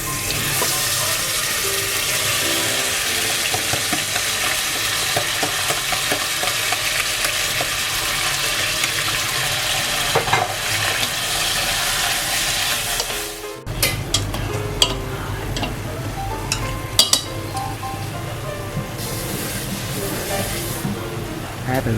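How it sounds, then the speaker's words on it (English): Steady sizzling and clattering of marinated chicken being stir-fried in a hot pan, loud and close, with a brief pause before lighter frying and scraping continue. "Add the chicken and stir well until the meat firms up."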